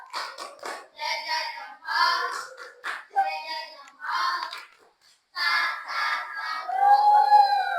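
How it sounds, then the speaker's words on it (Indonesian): A school classroom does a 'tepuk salut' clapping salute for two student groups who just presented: children chant in rhythm, with sharp hand claps woven between the voices, fairly close and lively. "Kita tepuk salut dulu untuk 2 kelompok yang tadi presentasi."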